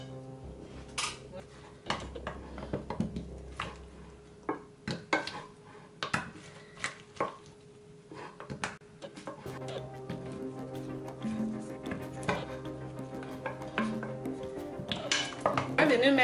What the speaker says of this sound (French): je vais prendre mon assiette du four